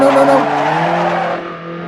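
A small car's tires squeal in a short skid, loud at first and then fading as engine tones carry on beneath.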